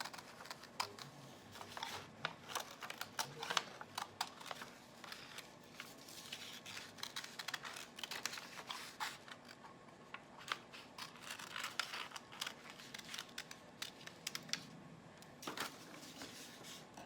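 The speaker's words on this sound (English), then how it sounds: "I'm going to use my scissors to cut a little bit here" Scissors snipping through paper while making a handmade greeting card and monster tissue box craft, a run of quiet, close, irregular cuts and rustles with no talking.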